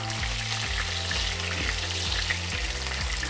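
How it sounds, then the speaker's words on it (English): Prosciutto fries in a fair amount of oil in a pan, a steady crackling sizzle over a low, regularly stepping hum in the background, with no talk. "prosciutto crisped up just a little bit while we've got a fair bit of oil in the pan"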